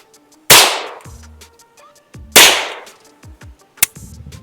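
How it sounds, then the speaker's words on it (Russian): Two sharp, loud cracks from a 6P9 pistol with an integrated suppressor, about two seconds apart, each decaying quickly, followed by a smaller click and light metallic handling sounds. "Видите, звук выстрела, в принципе, даже при интегрированном глушителе очень тихий."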